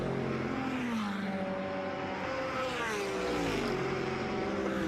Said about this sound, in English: trying to get that power down in that V8 engine